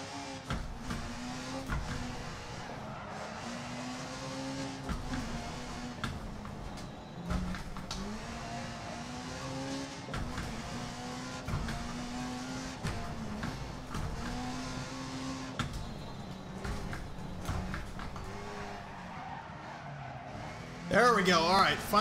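Rally car engine revving and shifting on dirt in Dirt Rally, a steady harmonic drone rising and falling through gear changes with gravel crunch beneath, loud and continuous, with a louder burst near the end and faint talk underneath.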